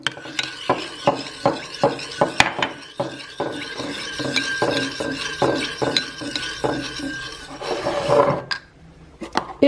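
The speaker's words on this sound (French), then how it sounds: "Je mélange le tout dans un bol." A spoon scrapes and taps rhythmically against a bowl while stirring softened gelatin into warmed, strained grapefruit juice, steady clinking strokes close by, growing busier toward the end.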